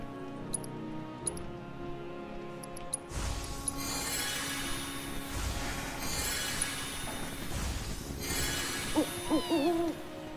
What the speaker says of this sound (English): Yes, I hear you, Mr. Owl.